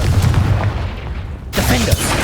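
A Confringo spell from the video game Hogwarts Legacy erupts in loud booming blasts, the explosions cutting in sharply after a brief lull, with combat noise around them.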